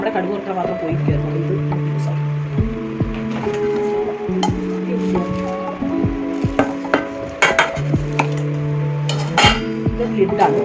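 Pot lid handled during a gift unboxing, giving close metallic clinks, taps and rattles at irregular intervals over continuous background music.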